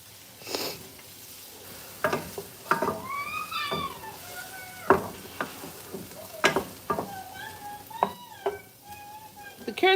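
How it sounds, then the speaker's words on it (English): Green onions crackle and pop in a hot pan for shrimp fried rice, with irregular sizzling bursts and stirring clatter close by, plus occasional other sounds. "I've got my green onions over here popping"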